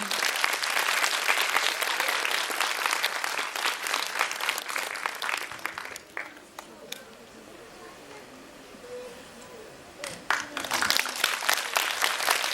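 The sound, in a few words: audience applause at a charity concert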